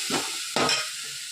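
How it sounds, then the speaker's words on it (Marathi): Chili and garlic paste frying in a pan, giving a steady sizzling hiss with two louder bursts of stirring and scraping close by. "आता त्याच्यामध्ये मिरच्याचं वाटण टाकलंय आता मस्त फ्राय करून घेते लाल"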